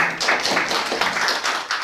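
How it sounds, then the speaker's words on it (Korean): Dense applause from a seated audience at a Buddhist graduate school entrance ceremony, a steady wash of many hands clapping at close range with no voices on top, sustained through the whole stretch. "큰 박수 부탁드립니다."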